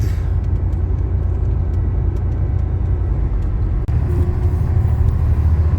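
A bus rolls along the road with a constant low engine rumble and road noise, then a sharp thump and a brief hiss of its brakes partway through. No one speaks.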